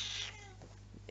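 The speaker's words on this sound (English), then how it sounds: "Oh, there's the cat." A cat meows once, loud and near at the start, then fades into quiet room noise with a few soft taps.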